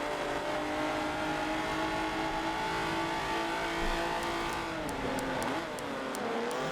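Renault Clio Cup V6 race cars lap the Brands Hatch Indy circuit, a steady loud engine drone with shifting pitch as cars pass and accelerate, continuous throughout.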